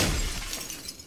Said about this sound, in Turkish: Camı kır ya.